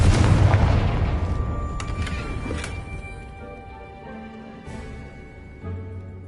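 A Confringo fire spell goes off in the video game Hogwarts Legacy as a heavy, booming explosion that hits loud at once, then rumbles and fades over several seconds with faint game ambience beneath.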